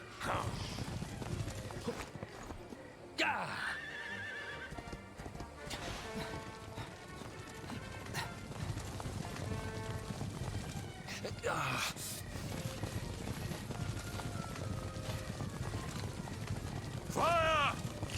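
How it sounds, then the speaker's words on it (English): Saddled horses gallop in Dragon Quest XI, hooves clip-clopping in a rapid continuous beat with occasional whinnies and crashes, while characters talk over the action throughout. "Convenient horses with saddles."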